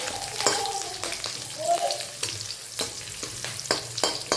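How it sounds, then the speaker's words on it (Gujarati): Curry leaves and green and red chillies crackle and sizzle in hot oil, with regular scraping stirs of a spoon against the pan, close by. "એકદમ શેકાઈને ક્રિસ્પી જેવા ના થઈ જાય ત્યાં સુધી તળવાના."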